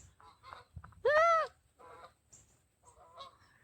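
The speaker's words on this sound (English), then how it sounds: "Geese just flew over." Several geese honk in a brief loud burst as a flock flies overhead, the calls standing out clearly above quiet outdoor background with faint talk before and after.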